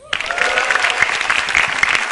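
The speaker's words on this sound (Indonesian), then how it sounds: "Yang jelas tepuk tangan buat komik-komik sebelum saya." Dense, loud audience applause at an Indonesian stand-up comedy show, a continuous wash of many hands clapping throughout, with faint voices mixed in.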